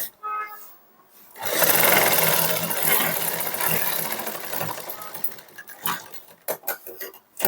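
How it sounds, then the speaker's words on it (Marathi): A sewing machine runs a lining seam joint on a sleeve, a steady loud mechanical whir for several seconds that stops, followed by a few short bursts and clicks. "इथे शिलाई मारून घ्यायची"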